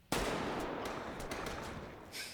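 A single sharp gunshot from a Squid Game episode bursts out loud, followed by a long, echoing tail.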